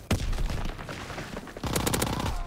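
A Thompson submachine gun fires in a video game, a single sharp shot followed by a rapid, loud automatic burst of cracking rounds close by.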